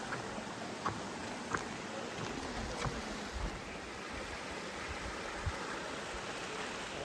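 A river flowing along a hiking trail, its steady broadband rush of water continuous and even, with a few faint splashes and ticks poking through.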